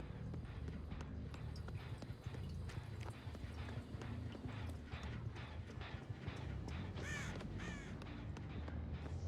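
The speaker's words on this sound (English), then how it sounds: "I just heard a bird crow at me" Crow cawing in the horror game Dead by Daylight, a couple of harsh, rasping calls standing out near the end over a busy, continuous backdrop of rhythmic footfall-like thumps and game ambience.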